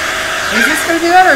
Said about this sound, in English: is this just a blow dryer